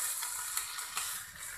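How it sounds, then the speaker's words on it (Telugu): Water amaranth leaves sizzle softly in a hot pan, a steady frying hiss with faint crackles and stirring scrapes, fairly quiet with no voices. "ఇలా కొంచెం ఫ్రై అయ్యేంత వరకు ఇలానే ఫ్రై చేసుకోవాలి"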